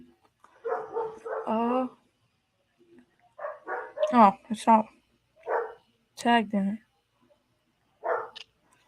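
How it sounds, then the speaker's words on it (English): Dogs bark in the background in scattered yips and bow-wows while a person talks over them, the barks moderate in volume and coming in short clusters. "Don't mind my dogs in the background"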